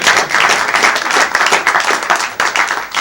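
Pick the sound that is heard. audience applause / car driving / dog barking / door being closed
audience applause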